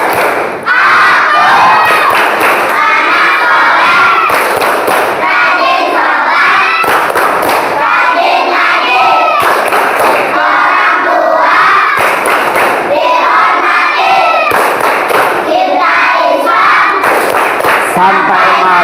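A class of fourth-grade primary schoolchildren performs the tepuk anak soleh, a rhythmic Indonesian clapping chant, loud and close, with many voices chanting together in unison and bursts of sharp synchronized claps throughout.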